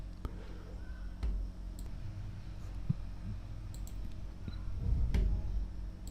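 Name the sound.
computer mouse double click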